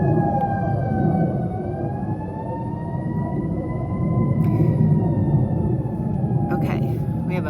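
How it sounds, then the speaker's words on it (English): A fire truck siren wails with slow rising and falling tones as it passes, layered over the loud broad roar of a plane overhead, both sustained and prominent throughout. "we have a loud plane and a fire truck all at the same time. Fire sirens."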